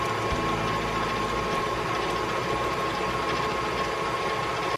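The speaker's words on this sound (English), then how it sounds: "we're just gonna start mixing the butter, the sugar, and everything else together to make this gorgeous red batter" A stand mixer creams butter and sugar for red velvet cake batter, a loud, steady motor whir running evenly throughout with no talk.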